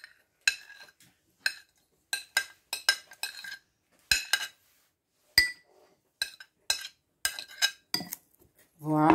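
Ingredients go into a clean bowl, with a series of sharp, quiet clinks and taps of a spoon or utensil against the dish, spaced irregularly with silent gaps between them, close up and alone.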